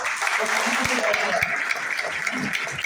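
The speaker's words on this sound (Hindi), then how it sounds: "मैं उसके लिए ताली देना सब लोग।" An audience at an indoor business-plan meeting breaks into applause with scattered sharp claps, while a voice carries on over the clapping.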